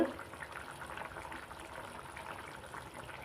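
A pot of dried sardine curry, salai karuvadu kulambu, simmers on the stove, giving off a faint, steady bubbling and soft crackle with no talk over it.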